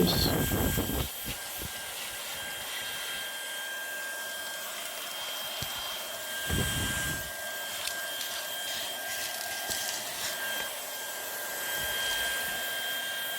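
An Erabros EV1 cordless vacuum cleaner runs steadily inside a car, its motor whine close and continuous, with a few brief bumps and knocks as the long nozzle moves around the vehicle's carpet and corners.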